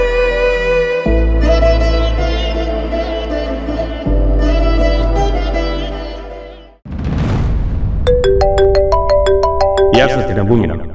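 A mobile phone ringtone plays a bright repeating electronic melody near the end, after loud dramatic music with a deep boom, in a Kannada television serial scene.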